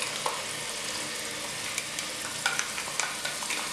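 A homemade paste for a carrot and oats kofta curry fries in a pan, giving a soft steady sizzle broken by small scraping clicks as it is stirred.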